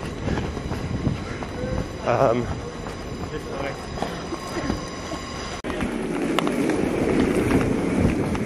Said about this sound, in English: So we've made it onto our second train.